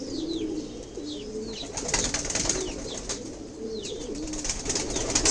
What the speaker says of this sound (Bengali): কবুতর রোদে বসে আছে